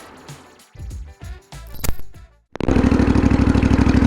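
A few short engine blips and revs, then a custom Triumph Bonneville Bobber with custom exhaust fires up into a loud, deep, rapid throbbing idle close by.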